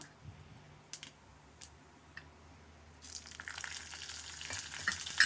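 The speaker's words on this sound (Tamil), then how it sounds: "கொஞ்சம் எண்ணெய் விட்டுருக்கேன். கடுகு, பச்சை மிளகா" Mustard seeds and green chillies are tempered in hot oil: after a few faint clicks and taps, a steady close crackling sizzle starts and continues, with no one speaking.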